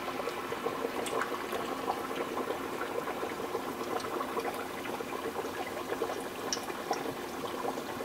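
Beer-battered fish frying in hot grease makes a steady, dense crackle and bubbling sizzle, with scattered sharp pops over the continuous hiss.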